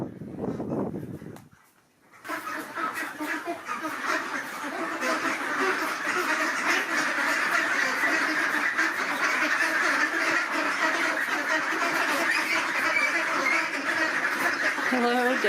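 A flock of about 100 ducks in a pen quacks loudly and continuously, a dense overlapping chorus after a brief quiet moment at the start.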